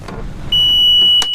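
A sailboat's engine with an S-drive idles as a low, close rumble underway, then a steady high-pitched whine or beep takes over as it is shut off.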